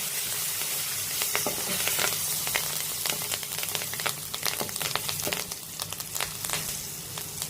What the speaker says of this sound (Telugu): ఇప్పుడు దీంట్లోకి కొంచెం కరివేపాకు వేసుకున్నాం.